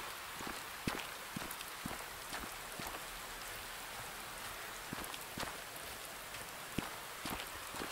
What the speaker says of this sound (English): Still pouring with rain.